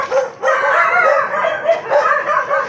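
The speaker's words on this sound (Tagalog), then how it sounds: "Maingay ng aso eh." A dog yaps and whimpers in short, high-pitched bursts, fairly close and continuous, with no one speaking.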